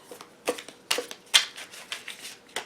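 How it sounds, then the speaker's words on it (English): A Radiant Rider-Waite tarot deck is shuffled by hand, giving quick, soft riffling bursts and taps at an uneven rhythm, close and faint with no talk. "So I'm going to just grab one of these and just see about shuffling them."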